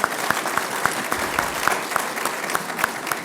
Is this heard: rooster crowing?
no